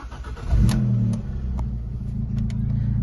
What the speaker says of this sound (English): Just going to start the car up.